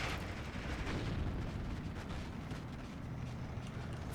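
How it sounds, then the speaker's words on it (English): Dense, muffled rumble of distant gunfire and explosions as Spitfires strafe flamethrower troops in the World War II strategy game Steel Division 2, a continuous low roar with faint overlapping cracks and no clear separate blasts. "Spitfires coming in to blow up the Flamenwerfers, but missing their targets"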